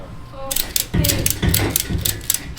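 A ratchet strap is cranked to pull a warped metal car dash straight, giving a series of close, sharp ratcheting clicks and mechanical clunks in uneven bursts, with some faint background voice.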